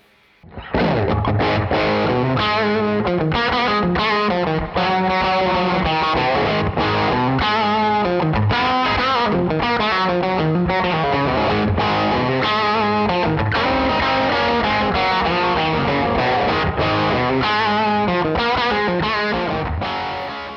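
Electric guitar played through the Neural DSP Archetype John Mayer X amp-simulation plugin, a loud, continuous run of overdriven, chorused tones and chords lasting the whole stretch with no talking.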